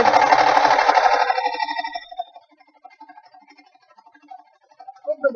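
A sewing machine stitches a seam on an envelope cushion, running steadily in one close whirring burst for about two seconds before stopping, followed by faint handling noises.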